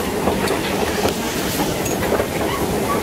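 A train at Atlanta's airport rumbles steadily with close, loud rolling clatter and a faint hiss, continuous throughout with no talking.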